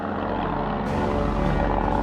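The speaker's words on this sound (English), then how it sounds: "a patrol plane detects Harder through the glassy waters" A wartime patrol plane drones steadily overhead above glassy waters where a submarine lurks, its propeller engine a continuous, fairly loud rumbling hum with no break.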